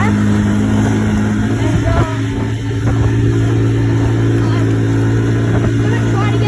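An ATV engine drones steadily and loudly while riding laps, with a constant low hum and a slight rise and fall in revs, and wind rumble on the mic; a rider talks over it.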